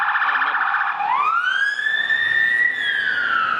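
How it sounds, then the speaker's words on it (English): A police motorbike siren wails through a Budapest city street, loud and close, with one long tone sweeping steadily up and then falling away. "You do get a lot of sirens in the city"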